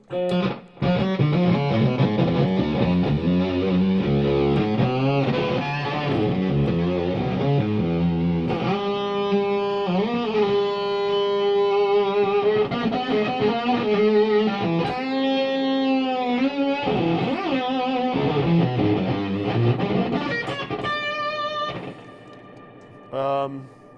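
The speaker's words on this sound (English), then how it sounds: "These are more pedals that make bad noises, bad fuzz." Heavily fuzzed, distorted electric guitar tones from a fuzz pedal play continuously, buzzing and harmonically rich, with sliding pitches and a brief pause near the end.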